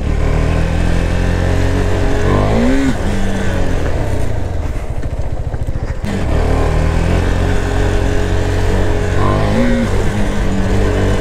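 KTM Duke 390 motorcycle engine revving hard and loud at close range before a jump, a sustained roar with rising throttle sweeps and a brief dip midway.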